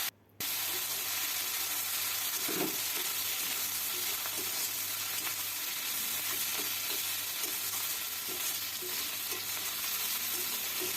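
Garlic and cumin paste frying in a pan with a little water added, giving a steady, close sizzle and hiss with occasional soft stirring scrapes throughout, no voices.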